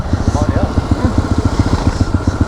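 A CBR superbike's engine idles with a steady, pulsing low throb close by, while people talk over it throughout.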